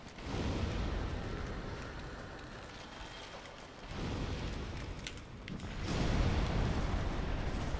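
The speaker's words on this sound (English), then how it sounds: "Let us light some fucking ghosts on fire." Combustion pyromancy in Dark Souls sets ghosts on fire, heard as a continuous loud roaring whoosh of flame that swells, dips and surges again.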